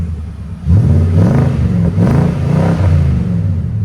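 A 2018 Nissan Titan Pro-4X pickup with a 5.6L V8 and Borla Pro XS exhaust revs up from a low idle into a deep, loud, close engine roar with several rising pulls.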